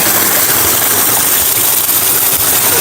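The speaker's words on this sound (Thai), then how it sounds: "นี่ดูเสียงน้ำดูลำธารทุกคนสวยมาก" A mountain stream runs beside a campsite with a loud, even, unbroken rushing roar that stays close and constant throughout.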